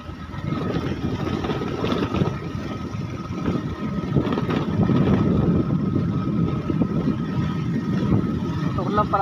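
A steady motorcycle engine drone rumbles throughout on a mountain trail in Occidental Mindoro, Philippines, rising slightly in the second half, with a voice talking over it.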